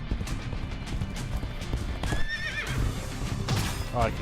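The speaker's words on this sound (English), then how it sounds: "I can jump with the horse" In the video game Legacy of Kain: Ascendance, a horse gallops with steady clip-clop hoofbeats and gives a couple of sharp neighs, loud over a dense game soundscape.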